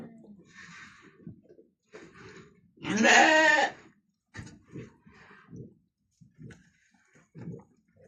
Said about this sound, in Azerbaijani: Yanvarın 24'ündən doğulmuş oğlaqlardır